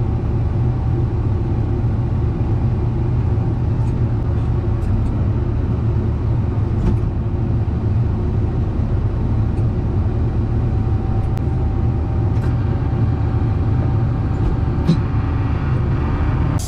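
A skid steer loader engine idles steadily on a farm while round bales are being handled, a constant low rumble close by with faint clicks on top and no talking.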